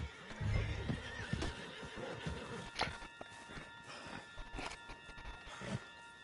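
In the video game Red Dead Redemption 2, a horse whinnies loudly up close while its hooves clip-clop at a walk, with scattered hoof strikes and shuffling continuing after the neigh.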